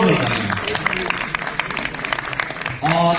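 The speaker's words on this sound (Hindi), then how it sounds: "जोर तालियां" At the Audit Diwas 2025 closing ceremony, a hall audience claps loudly in a dense, uneven burst, with sharp individual claps throughout; a voice speaks over the start and end.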